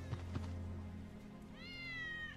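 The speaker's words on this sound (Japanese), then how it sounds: "ウェッジの猫だ。" A cat meows once with a drawn-out, falling cry over a steady low game hum in Final Fantasy VII, the cat belonging to the character Wedge.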